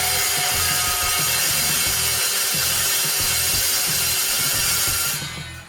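A metal-cutting chop saw with a dull blade grinds loudly and continuously through metal, a harsh steady roar with a pulsing low rumble, before winding down at the end; no talk.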